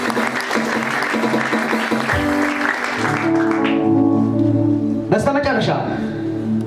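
A church congregation claps together, a steady wash of applause mixed with voices and sustained tonal sound that fades into singing or chanted tones.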